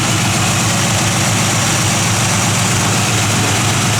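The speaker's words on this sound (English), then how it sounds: "Solid lifter cam, you can hear that working." A 1965 Pontiac GTO with a solid lifter cam idles with a steady, loud, low rumble and a fine rapid ticking from the valvetrain running through it, close up with no voices.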